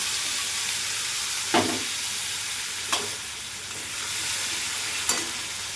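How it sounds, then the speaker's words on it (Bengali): Nigella seeds and mustard spice paste sizzle and spit in hot oil in a pan for a fish curry, a steady close frying hiss broken by three brief sharp pops or stirs. "এবার কালো জিরে ফোড়ন দিয়েছি"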